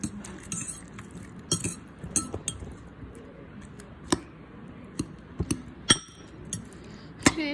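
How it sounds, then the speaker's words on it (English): A fork stirring food in a dish gives a string of light, close clinks and taps at an irregular pace, with short quiet pauses between strokes. "We stir the food right here."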